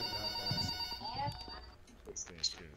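A telephone rings inside the horror video game Forgotten Memories, a steady electronic bell tone sounding for about a second before cutting off, followed by scattered game noises and a player's voice.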